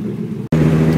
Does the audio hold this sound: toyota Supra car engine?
yes